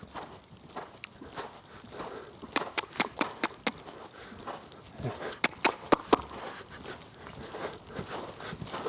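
A horse canters on a riding surface, its hoofbeats giving soft rhythmic thuds with sharp clicks at moderate distance, bunching into clusters between quieter stretches.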